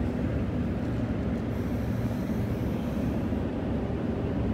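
A Transperth MAN B-Series electric train, car 5076, runs through an underground tunnel in Perth with a steady low rumble and roar heard from inside the carriage, continuous and even throughout.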